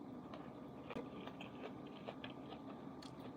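Someone eats a salad of onions, lettuce, tomato and cheese, with soft close crunching and chewing bites at an irregular pace, very faint against a low steady background.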